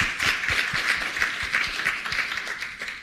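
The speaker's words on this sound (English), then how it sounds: "we also want to give a round of applause to all the presenters" A conference audience applauds the presenters at the end of a session, giving a steady, moderately quiet wash of many hands clapping with a faintly pulsing rhythm throughout.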